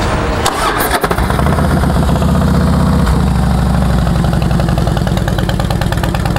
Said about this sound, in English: Cranks up real good, no issue there.